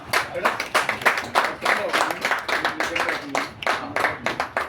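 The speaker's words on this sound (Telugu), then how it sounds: "సో ఒకసారి క్లాప్స్ కూడా" A group claps in quick, uneven bursts, fairly close, with voices mixed in throughout, at a business meeting felicitation.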